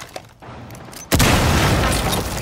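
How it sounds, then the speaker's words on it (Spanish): A demolition charge detonates in Rainbow Six Siege with a sudden, loud, close boom that stays as a heavy, sustained roar after a quieter lead-in. "Dispositivo de demolición,"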